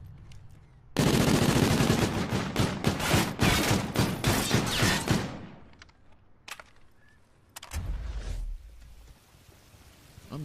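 Rapid automatic fire from the OSA gun during a Call of Duty Search and Destroy match, a loud close burst of dense shots for several seconds, then quieter scattered shots and a second shorter burst.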